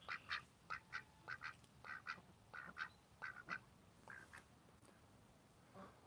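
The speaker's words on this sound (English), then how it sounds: "What are you talking about, little ducks?" Several ducks quack in short, repeated bursts over about five seconds, the calls close and fairly clear over a faint background hum, with a brief pause before a last quiet call.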